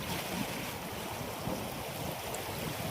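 A river in heavy flood roars in a steady, dense rush of turbulent water, close and continuous with a wind-buffeted microphone and no talking.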